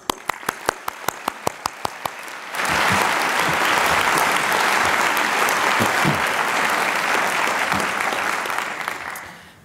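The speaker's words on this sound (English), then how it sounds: "one more time, we applaud you" At a Ford School commencement ceremony, a few slow, rhythmic claps quickly give way to a full room of loud, dense applause that rolls on steadily for several seconds before easing off.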